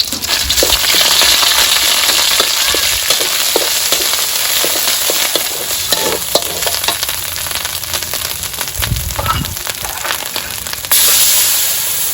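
Loud, steady sizzling of eel being stir-fried in a hot pan for a spicy stir-fry, with scraping and clattering from stirring throughout.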